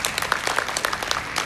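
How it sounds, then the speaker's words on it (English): Applause from an audience at a school book launch event, a dense run of hand claps that stays steady and fairly close for the whole stretch. "Please, a round of applause for Zara"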